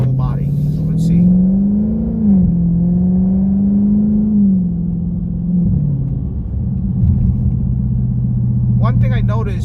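A Dodge Charger Scat Pack fitted with a Hellcat air filter and a clean throttle body revs up heard from inside, a loud low rumble rising and falling through paddle-shifted gear changes, with someone speaking briefly at the start and end.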